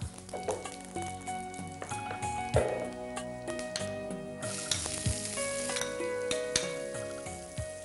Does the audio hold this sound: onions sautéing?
yes